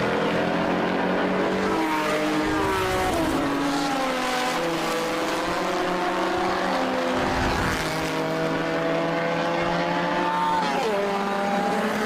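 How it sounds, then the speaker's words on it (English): Alfa Romeo Group S sports race car number 52 lapping a track, its engine note rising and falling steadily through gear changes and sweeping pitch, loud and close throughout with no talking. "Car 52, the beautiful little Alfa Romeo there, heading around on our screen."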